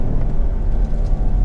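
A Land Rover Discovery Sport's engine gives a brief, close, low rumble as the SUV corners under boost.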